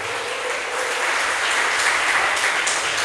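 A church congregation applauding during a sermon, a dense, steady wash of clapping hands that holds at an even level throughout, with no talking over it.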